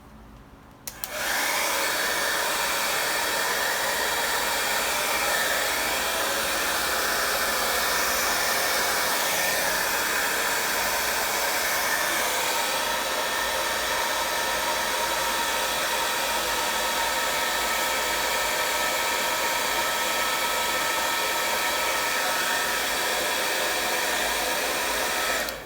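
A hair dryer blows steadily on wet paint on a sunset canvas, switching on abruptly and then holding a loud, even roar close by for the whole stretch.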